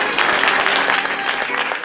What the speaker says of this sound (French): on l'applaudit encore très fort s'il vous plaît.